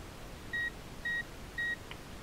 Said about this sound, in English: And when you hear three beeps like that